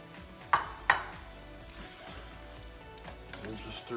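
Peppers stirred into pepper steak sauce in a pan, two sharp utensil clanks against the pan followed by softer scraping and a faint sizzle.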